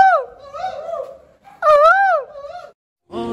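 A human voice imitating an Asian koel's call, rising whooping whistles up close, followed by a brief buzzy tone.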